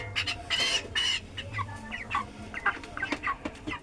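25-day-old broiler chickens cluck and squawk in a poultry shed, a busy cluster of short overlapping calls from several birds close by, with no talk.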